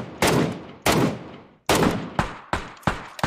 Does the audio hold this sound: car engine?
no